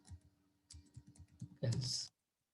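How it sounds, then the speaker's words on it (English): Computer keyboard typing while notes are written in Notepad: a short run of quiet, close key clicks in small bursts, ending in a brief louder clatter. "I'm just typing it out"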